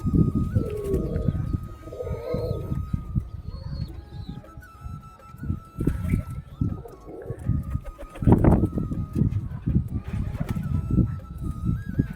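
Pigeons cooing steadily at close range while bathing, with low throaty coos layered over splashing and fluttering and a few faint chirps in the background.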